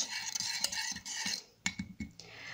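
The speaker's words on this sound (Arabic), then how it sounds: "والآن سوف أقوم بدمج هذه المكونات مع بعضها البعض نخلط جيداً" Spoon or utensil scraping and clinking against a bowl while ingredients for a juniper face mask, including chamomile, are stirred together, irregular taps and scrapes up close, no talking.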